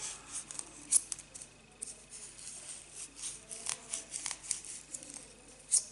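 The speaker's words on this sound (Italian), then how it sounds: "Con le forbici vado a praticare un taglio" Scissors snip into a polystyrene ball for a Christmas ornament, a series of close, irregular crunchy cuts and scratches spread across several seconds with no speech.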